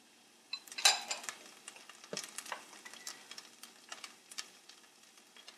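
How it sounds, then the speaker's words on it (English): Scallions, mint and parsley sauté in olive oil in a pan over medium heat, a soft sizzle broken by close scrapes and clicks of a utensil stirring the herbs. "We saute the herbs for about 2 minutes."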